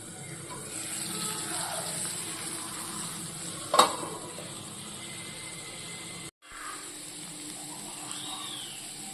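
Beef liver frying in a pan gives a steady soft sizzle with light stirring, one sharp clatter near the middle and a brief cutout, no talking.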